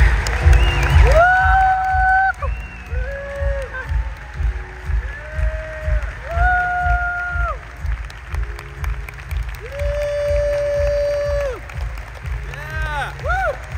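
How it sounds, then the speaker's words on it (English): Audience at a storytelling session applauding and cheering for an award-winning storyteller, continuous clapping with whoops and held musical tones over it, lively and fairly close throughout. "receive the applause she deserves"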